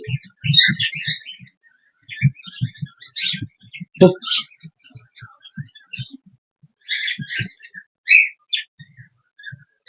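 Budgerigars chirp in short, high, scattered bursts inside a cage, mixed with soft low knocks and clatter from the cage.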